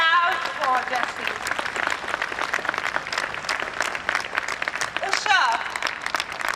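Sustained, loud audience clapping at a Pledge event at Delhi Habitat, even and continuous from many hands, with scattered voices and cheers mixed in.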